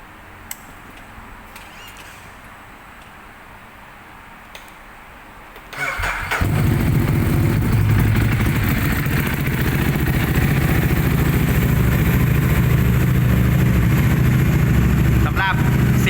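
After a few quiet seconds with faint clicks, a 2015 Ducati Hypermotard 821 engine with its stock exhaust cranks and fires up, then settles into a loud, steady idle that continues to the end.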